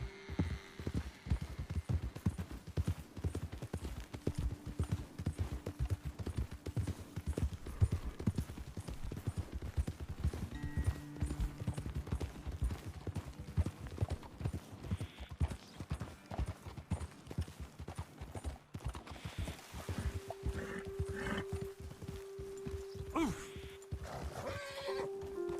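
Horses' hooves clip-clop steadily through a video game as riders travel up a path toward a hilltop vantage point, with occasional whinnies and a voice talking over the rhythmic trotting.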